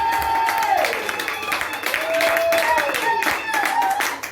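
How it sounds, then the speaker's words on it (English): Church congregation clapping for the Lord during a Sunday service, a dense wash of hand claps running throughout beneath a sung or chanting voice. "you can clap for the Lord"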